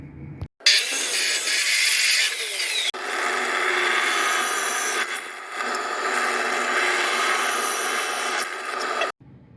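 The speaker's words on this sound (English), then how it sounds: "got chunks of angle iron cut, holes drilled in it" Power tools working angle iron in a shop: loud sustained grinding and cutting bursts with brief pauses between, close by and with no talk.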